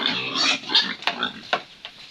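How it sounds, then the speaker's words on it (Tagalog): Pigs squeal and grunt as they jostle over food at feeding time, a close burst of overlapping shrill squeals and short snorts. "Nag-aagawan ko yung mga baboy"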